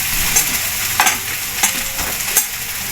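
Leftover cooked rice being fried into sinangag in a pan, a steady close sizzle broken by several sharp scrapes and stirring clatters spaced roughly every half second, with no voices.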